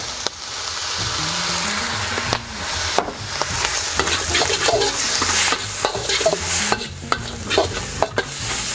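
Ground pork stir-fries in a pan with Shaoxing wine and light soy sauce for dan dan noodles, giving a continuous sizzle broken by sharp spatula scrapes and clacks against the pan.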